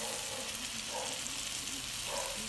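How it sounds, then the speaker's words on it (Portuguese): Bacon frying in a pan while burgers are assembled, a steady soft crackling sizzle running throughout, fairly quiet and close. "olha a gordurinha do bacon soltando"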